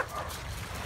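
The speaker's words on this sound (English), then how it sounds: "Quit barking at Lola." A dog barks at another dog during a morning group dog walk, the yaps close and fairly loud with a person talking over them.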